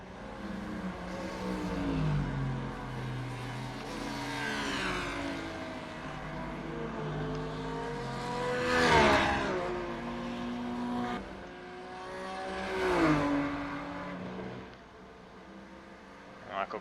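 GT3 race cars lapping Watkins Glen in the iRacing game, engines rising and falling through gear changes, with several cars sweeping past loudly and fading, under a commentator's voice.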